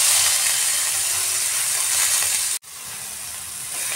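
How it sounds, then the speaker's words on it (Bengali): Shrimp coated in salt and turmeric frying in mustard oil, giving a steady close sizzle with a brief sharp drop near the end before the hiss resumes. "এবার লবণ দিয়ে আর হলুদ দিয়ে মাখা চিংড়ি মাছগুলো হালকা ভেজে নিচ্ছি।"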